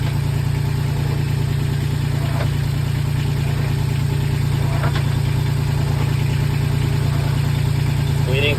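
Inboard diesel engine of a Gemini 105mc catamaran idling steadily after an oil pan change, a continuous close, loud low rumble with a regular throbbing pulse and no voices.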